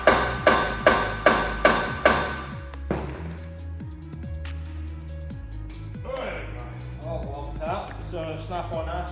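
Six sharp, evenly spaced hammer strikes ring out loud and close on a Chevrolet Cruze during brake work, then give way to a busy workshop mix of clanks, scraping and a voice talking.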